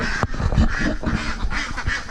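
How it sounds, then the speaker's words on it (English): Several ducks quack in bursts at a nearly dry creek, close and fairly loud over steady outdoor background noise. "There's my ducks again. There they are."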